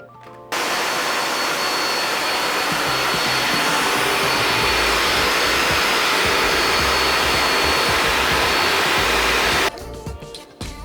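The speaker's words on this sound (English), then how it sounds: "So let's get it blended up." A blender whirs a creamy drink with powder in a kitchen, a loud steady motor roar starting abruptly and running about nine seconds before cutting off, with no talking.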